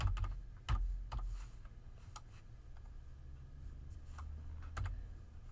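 Keys clatter on a computer keyboard in a quiet room, several separated bursts of taps spread across a few seconds at a low, close level with no voices.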